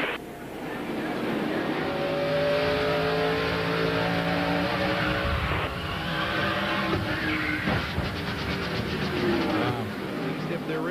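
NASCAR Winston Cup stock cars roar around the track at the 1999 Goody's Headache Powder 500, engines droning loudly and rising and falling in pitch as they pass, under a commentator's talk.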